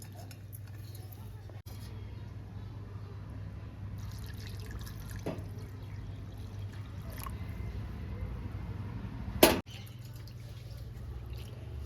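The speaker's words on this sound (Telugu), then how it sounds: "అది వేసుకొని ఒకసారి మంచిగా కడిగి నానబెట్టుకుందాం" A lemon-sized lump of tamarind is washed by hand in a bowl of water for a fish curry, with soft swishing and dripping over a steady low hum, a few clinks, and a sharp knock near the end.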